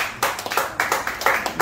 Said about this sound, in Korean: 우리 연 대표님 다시 한번 큰 박수 부탁드리고요